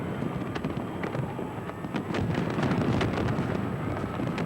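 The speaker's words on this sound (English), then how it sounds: "Meanwhile, the fireworks continue in London." Millennium fireworks display over London at the turn of 2000, a dense continuous crackle of bursts and pops with sharper reports standing out, heard from a distance through a steady broadband rumble.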